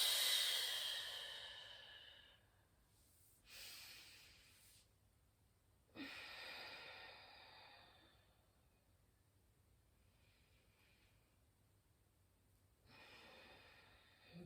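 Slow, deep yoga breaths at close range: a long airy inhale or exhale at the start, then several softer breath bursts spaced a few seconds apart, with quiet gaps between.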